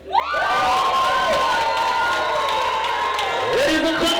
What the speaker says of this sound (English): Ladies and gentlemen, a big round of applause to Priscilla.